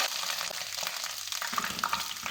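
A paste of mashed fresh ginger and garlic sizzles loudly in hot oil in a karahi for achari chicken curry, a bright crackling fry with stirring scrapes and a bubbly, watery spatter.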